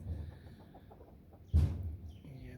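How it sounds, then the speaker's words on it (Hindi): An Aseel rooster with four hens on a farm makes low clucking and grunting sounds at close range, with one louder, sharper call standing out midway. "ये बड़ा मुर्गा और इसके साथ हमने 4 मुर्गियां लगाई हुई हैं।"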